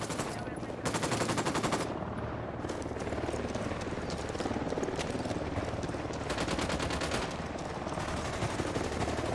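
Automatic gunfire in the video game Tom Clancy's Ghost Recon Wildlands, with loud, sustained machine-gun bursts in rapid rhythm one after another, dense and close against a constant roar of battle noise.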